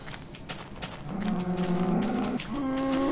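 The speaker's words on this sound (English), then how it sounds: "To see how my cows are doing." Cows mooing in the video game Minecraft, several drawn-out, close, fairly loud lowing calls that overlap and swell toward the end, with no voices over them.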